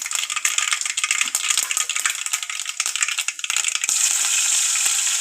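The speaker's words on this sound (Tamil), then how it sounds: "கடுகு நல்லா பொரியட்டும்." Mustard seeds splutter and pop in hot oil in a pan while cooking a cassava evening snack, giving dense, crackling, irregular bursts up close that swell into a steadier hiss toward the end, with no voices.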